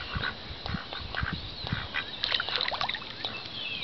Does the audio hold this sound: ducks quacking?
yes